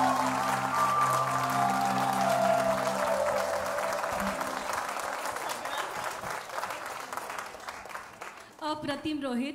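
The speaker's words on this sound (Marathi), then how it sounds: "जोरदार टाळ्या" Audience applause fills a hall after a devotional song performed with tabla and keyboard, a loud, sustained clapping that fades slightly, with a voice speaking over the end.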